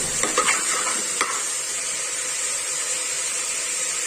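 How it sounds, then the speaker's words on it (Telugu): Chopped beans being stirred in hot oil while cooking beans curry, giving a steady sizzling hiss with a few scraping strokes early on, then a continuous fry alone. "ఇప్పుడు ఈ బీన్స్ ముక్కలని ఆయిల్లో బాగా కలిసేటట్టు కలుపుకోవాలి"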